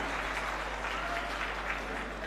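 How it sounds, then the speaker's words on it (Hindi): Applause from an audience at the opening session of the Khadi Mahotsav and Silk Expo 2021 in Lucknow, a steady dense wash of clapping held evenly for a couple of seconds. "जोरदार तालियों के साथ।"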